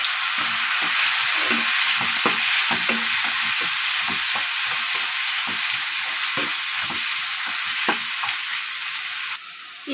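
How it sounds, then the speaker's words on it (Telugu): Chopped tomatoes drop into a frying mutton masala, a steady loud sizzle with a spatula scraping and stirring in repeated knocks throughout, no voices. "2 టమాటాలు వేస్తున్నాను."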